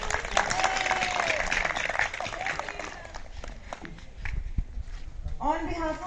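A crowd applauds at a school cultural event, a dense burst of clapping that thins out over several seconds before a voice begins speaking near the end.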